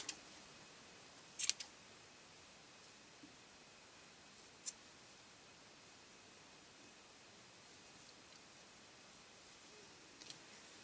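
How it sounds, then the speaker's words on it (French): Scissors snipping through yarn loops on a fluffy snowman decoration, a few sparse, faint, sharp clicks spread over ten seconds against a quiet hiss. "Alors, je viens couper toutes les boucles."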